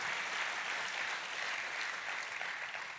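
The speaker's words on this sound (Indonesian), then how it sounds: "Tepuk tangannya pula yang meriah buat Tuhan kita." Steady, dense applause from a church congregation during a sermon, holding at an even, full level for the whole span with no talk over it.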